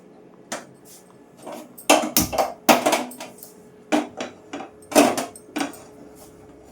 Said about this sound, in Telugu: గిన్నె పెట్టేసుకున్నాం కదండి